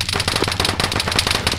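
Rapid automatic gunfire rattles through a military shooter game in a dense, continuous burst of sharp cracks, loud and close.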